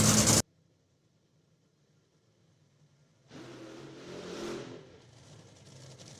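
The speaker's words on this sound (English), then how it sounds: "there's an engine noise and we couldn't hear you" A drag racing car engine at an FIA FIM event gives a brief loud blast, then falls quiet before a muffled rev builds, peaks and settles into a steady drone.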